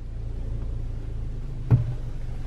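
A 2019 Honda Accord Sport rolls slowly in drive, giving a quiet, steady low rumble with a single soft thump near the end and no talk.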